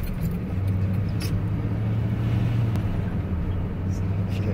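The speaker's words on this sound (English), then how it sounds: "First time driving my truck." A pickup truck driving, with a steady low engine hum and road rumble throughout, heard from inside the cab with a few faint clicks and knocks.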